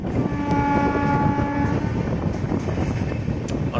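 Panchvati train running from Nashik to Mumbai, a horn blast sounding over loud rumbling wheels and clattering rails, heard close from the open doorway as the train runs on.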